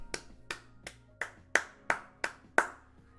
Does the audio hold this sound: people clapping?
yes